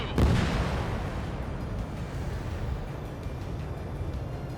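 Heat-seeking missile launching in Ace Combat 7, a sharp loud whoosh and boom at the start fading into a long rumbling roar of jet and combat noise with no talk.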